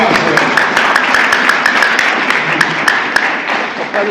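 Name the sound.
church congregation applauding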